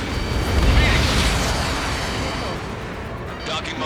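A docking module blows up in the flight-combat game Ace Combat 7, a deep, loud rumbling blast that swells early and rolls on under continuing engine and battle noise, with a voice speaking over it.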